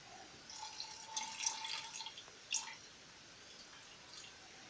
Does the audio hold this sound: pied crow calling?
no